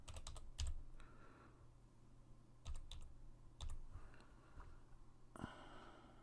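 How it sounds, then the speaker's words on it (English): Someone types a password on a computer keyboard, a few quiet clusters of key clicks separated by pauses over a soft room hum, with a faint breath between. "So I have to type my password."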